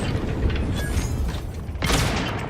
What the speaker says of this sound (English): That's a bigger explosion than I was expecting